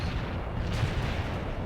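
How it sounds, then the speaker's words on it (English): Artillery fire in the Cold War tactical game World in Conflict: a continuous, dense roll of heavy booms and rumbling blasts, loud and sustained with no pauses, no voices over it. "That artillery is closing in!"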